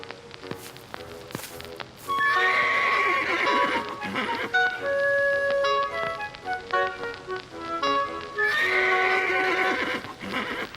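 A horse whinnies loudly twice, with hooves clopping and tapping on hard ground in between.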